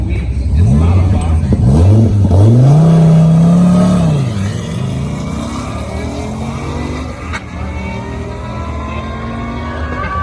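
Dodge Viper launching hard from a dig down a quarter-mile drag strip: a loud engine roar rising through gears in sweeping revs, then fading as the car pulls away, with a voice talking over the tail end.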